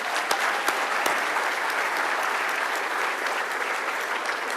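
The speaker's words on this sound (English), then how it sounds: "how about a round of applause for Mike Trim in his first year as our MC?" A steady round of audience applause at a law enforcement officer awards ceremony, honoring a first-year MC; dense, even clapping holds throughout with no talking.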